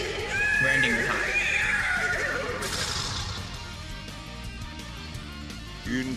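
In a video game, a horse neighs loudly with a long, shrill whinny near the start, followed by fainter snorting and game sounds, while a person talks over it.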